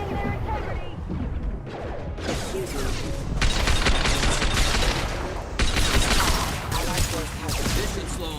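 Heavy gunfire and crashing impacts in the video game Mass Effect 2, loud and dense, with sustained bursts under a busy battle mix and occasional voices.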